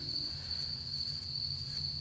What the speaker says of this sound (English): But along with that, then the crickets hatch.